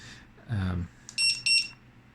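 A ThermoPro TM-01 kitchen timer sounds its alarm with a few sharp, piercing electronic beeps in quick succession after a brief murmur of a voice.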